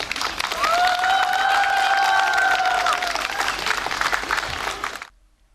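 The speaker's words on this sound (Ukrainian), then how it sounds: "Потужними і довготривалими аплодисментами зустріли Васильківці виступ міського голови Володимира Івановича Сабадаша" Townspeople give long, sustained applause for the mayor's speech at the ceremonial opening of a swimming pool, a dense crowd of clapping with a whistled tone over it, fading out at the end.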